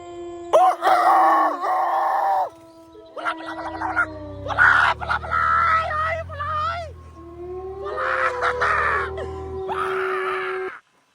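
Several loud, drawn-out shouts ring out one after another, howling and strained, with a low rumble underneath and a short pause in the middle.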